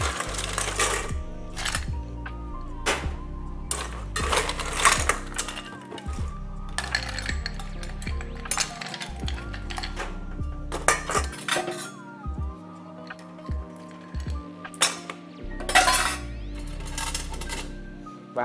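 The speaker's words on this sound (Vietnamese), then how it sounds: "sau đó thì mình sẽ bỏ đá vào và khuấy này nha" Ice is stirred in a mixing glass for a Black Manhattan made with rye whiskey and amaro, with rapid, rhythmic clinking and rattling of cubes against the glass, close and clear, in bursts with short pauses.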